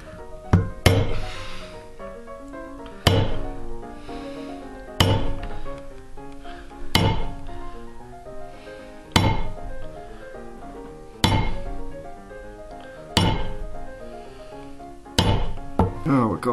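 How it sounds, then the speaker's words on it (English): Leather belt tooling along a scribe line: sharp, evenly spaced mallet strikes land about every two seconds, each a crisp close knock with a ringing tail, heard alone without talk. "Tool along our scribe line, keep it straight."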